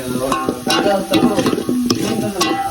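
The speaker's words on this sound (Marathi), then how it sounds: "आणि इकडे आपण आता मॅगी करतो मस्त मस्तपैकी कांदो टोमॅटो मसाला मीठ टाकलेला" Maggi noodles with onion, tomato, masala and salt cook in a pan at a rainy-season campsite near Rangana Fort, with steady rhythmic stirring strokes and clinks over a soft sizzle, close by.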